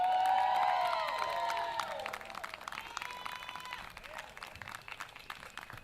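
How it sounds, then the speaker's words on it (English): Crowd applause and cheering at an outdoor music festival, starting strong with whistles and shouts, then fading into scattered clapping over several seconds. "let me get one more round of applause for his talent"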